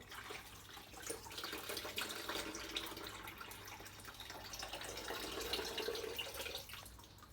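Water splashes and drips as a classic Mini's inlet manifold is lifted out of a bucket of hot water after soaking, a close, fairly quiet sloshing that swells and trickles for several seconds with no talking.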